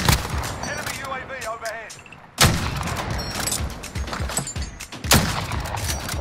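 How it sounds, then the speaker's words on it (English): Shotgun blasts in the Warzone battle royale game on PS5, loud sharp reports at about 2.4 and 5.1 seconds over a busy bed of gunfire and game noise, with players talking throughout. "I love this shotgun."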